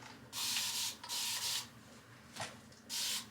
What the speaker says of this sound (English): I'm just gonna spritz the back a little bit